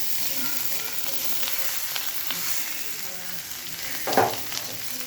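Steady sizzle of beans palya frying with garlic in a pan, a continuous hiss with a brief clatter of stirring near the end.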